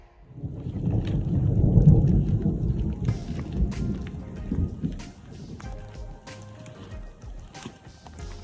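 A deep roll of thunder swells and fades on the Colorado Trail near Copper Mountain, followed by scattered raindrops pattering on a surface nearby.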